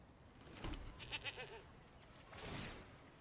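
A goat bleats when a goat token is created in MTG Arena, two short wavering calls a second or so apart over quiet background.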